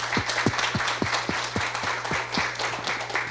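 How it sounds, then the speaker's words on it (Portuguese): Applause in tribute at a seminar on asset-manager governance: a modest crowd claps steadily and fairly near, with a few distinct loud claps in a regular beat over the dense patter and a low hum underneath. "a gente fazer uma salva de palmas aqui"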